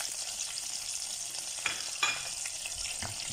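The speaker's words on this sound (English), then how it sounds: "In my pot here, I've got a huge tablespoon of oil and a stick of butter, which is nicely melting. This I'm going to be adding in my dry spices." Dry spices crackle and sizzle in a pot of hot oil and melted butter, a steady loud hiss with a few sharp pops and stirring scrapes near the end, no voices.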